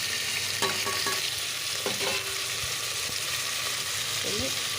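Tomatoes and mixed vegetables with soybean fry in a curry pan, giving a steady sizzle with a few stirring scrapes and clinks throughout, close and fairly loud, with no talking.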